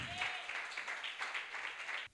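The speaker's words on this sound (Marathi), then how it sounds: "जोरात टाळ्या वाजवा." A church congregation at a Sunday service claps together in a steady, rapid rhythm of loud, dense handclaps, with no talk over them.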